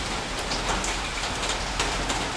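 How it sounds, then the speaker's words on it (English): Steady rain patters outside a house, a dense continuous hiss of drops striking surfaces close by, with no other sounds. "But it's raining."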